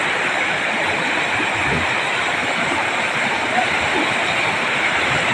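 Steady rushing of clear river water after a big flood, a continuous broad hiss and rumble from nearby flowing current with no pauses.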